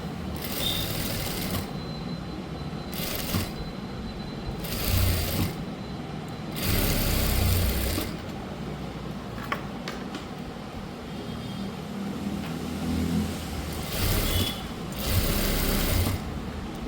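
A sewing machine stitches a blouse in repeated bursts of rapid mechanical whirring, each lasting one to two seconds, separated by short pauses, close and clear with no talking.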